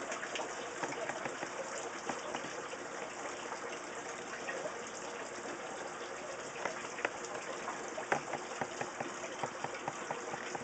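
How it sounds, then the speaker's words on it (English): Fish tank water trickling through PVC piping and dripping into potted plants in a patio aquaponics garden, a faint, steady wash of running water with occasional soft drops, no talking. "is dripped through on the PVC, dripping into each one of the plants"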